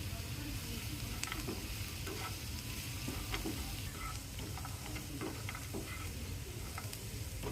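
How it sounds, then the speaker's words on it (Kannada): Peanuts frying in oil in a pan, with soaked flattened rice, turmeric and green chili added for a North Karnataka poha dish; a steady, moderately loud sizzle runs throughout, broken by scattered stirring clicks and scrapes, with no talk. "ಶೇಂಗಾ ಸ್ವಲ್ಪ ಇದೇ ಥರನೇ ಹಾಕಿ ಹುರಿರಿ"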